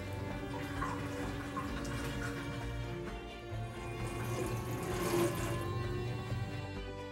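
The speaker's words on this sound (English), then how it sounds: "Wait for the water bath to drain." A pump drains a dissolution water bath through a drain hose, giving a steady, continuous rush of flowing water with a constant hum, close and even throughout with no talking.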